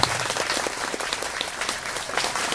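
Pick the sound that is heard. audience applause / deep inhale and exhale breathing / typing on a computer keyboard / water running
audience applause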